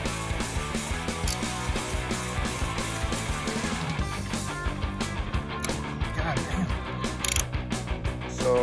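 A ratchet loosens the last turbo manifold bolts on a Nx2 turbo install, giving a steady, close, fast clicking that runs through the whole stretch at moderate level, with no talk.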